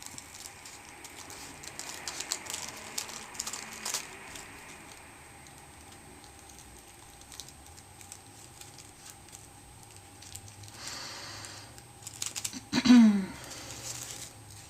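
Scissors snipping around damp paper during daisy flower crafting, quiet irregular crisp cuts and rustles close by, ending in a louder scrape and squeak.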